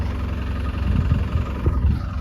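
A new tractor running while being driven: a steady low engine rumble with slight pulsing vibration, close and fairly loud, continuous for the whole stretch with no voices.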